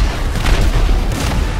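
Missile striking a military tank in GTA 5 video game gives a loud, close, rumbling boom that fills the entire short moment with a heavy low roar.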